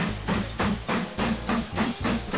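A small train in the Mashinky model-railway style game chugs along in a steady rhythmic puff and clatter, with about eight even beats and a soft hiss.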